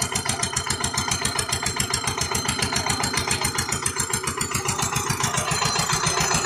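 An Eicher tractor engine, on sale at a tractor parts shop in Agra, runs at a steady idle with a fast, even diesel knock that repeats without pause, close and loud, with no talking.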